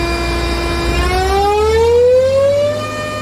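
An aircraft ground air start unit (GTC) is revved to high power, its loud close whine climbing steadily in pitch like a siren over a constant rushing roar, with no talking.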